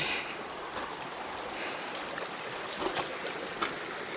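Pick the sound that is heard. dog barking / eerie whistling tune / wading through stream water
wading through stream water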